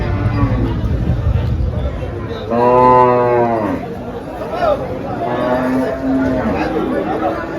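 Cows low at a crowded cattle market in Dhule, with one long, loud, harmonic moo in the middle and a fainter second call later. Steady crowd chatter and people talking run underneath throughout.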